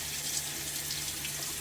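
A bathroom tap runs steadily to rinse a vintage Gillette razor during a shave, giving a continuous close hiss of flowing water.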